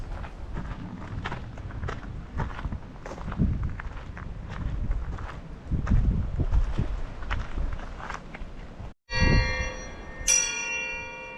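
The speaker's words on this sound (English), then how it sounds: "The dinner bell at Faraway Ranch." An old dinner bell at Faraway Ranch in Chiricahua National Monument, Arizona, rings out once near the end with a clear metallic clang and ringing decay, following outdoor footsteps and wind noise.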